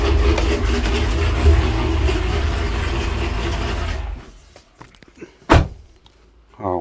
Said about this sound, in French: Et là je coupe le moteur et les feux vont s'éteindre.